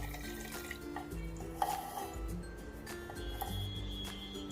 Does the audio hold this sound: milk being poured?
yes